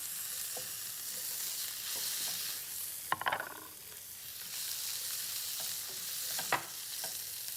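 Chicken being stirred into a thick sauce in a single pot, giving a soft continuous sizzle with occasional scraping clinks of the spoon against the pot, close and moderately loud, no talking.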